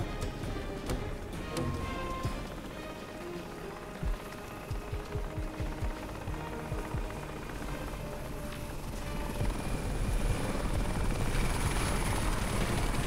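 Helicopter in the shooter game Crysis, its rotor beating in a rapid steady chop that grows louder and fuller toward the end.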